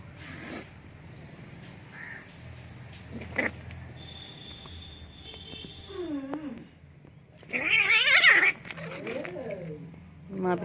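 Cats fighting indoors give short, wavering yowls and a sharp screech in a few bursts, the loudest near the end, mixed with a person talking through most of it.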